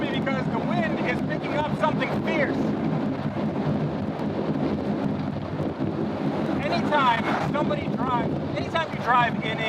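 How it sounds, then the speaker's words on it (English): Strong wind buffets the microphone on a moving three-wheeled motorcycle with an automatic transmission, a constant loud roar of gusts and rumble while someone talks over it. "the wind is picking up something fierce"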